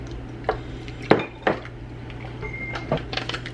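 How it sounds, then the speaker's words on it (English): A spoon stirs frozen corn kernels in a cooking pot, giving a few sharp, separate clinks and scrapes against the metal over steady kitchen background hum, with quieter rattling near the end. "We're just gonna stir that"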